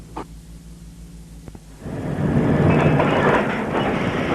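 Southern Pacific freight train with five mid-train helper locomotives arriving in summertime Oregon, 1977: quiet low engine idle at first, then a loud, steady rush of rolling wheels and rumbling cars swelling in close and holding.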